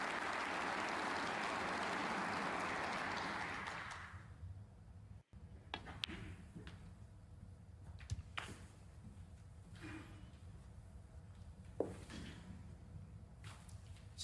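Audience applause at a snooker match in the Tempodrome, Berlin, during the German Masters: dense, loud clapping from a large crowd that fades out after a few seconds, leaving quiet hall ambience with occasional faint knocks and shuffles.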